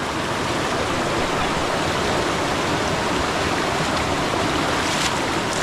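Loud, steady rushing of water pouring from a spring beside a clean river swollen by flooding, a continuous dense wash of sound with no breaks and no voices.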